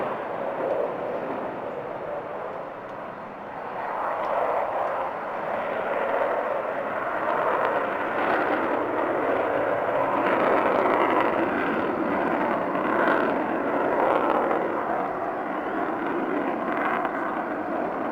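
The Avro Vulcan XH558 bomber flies a full display at RIAT 2015, a loud, sustained jet roar that swells and holds steady throughout with no voices.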